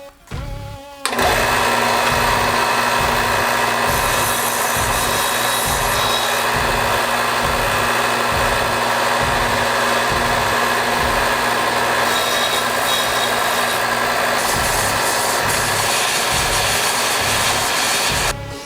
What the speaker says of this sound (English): We'll sharpen them on the drum sander with the very worn out sanding disc